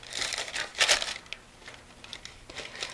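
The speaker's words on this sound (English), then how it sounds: "So I'll put the wax paper on the bottom," Wax paper crinkles and rustles close by as it is laid into the bottom of a tin for homemade fudge, a steady run of soft crackling with one brighter crunch in the middle, no voices.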